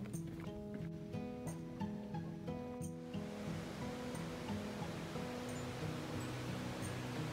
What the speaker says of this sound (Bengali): ঝর্ণার আওয়াজ শুনতে শুনতে এক চমক।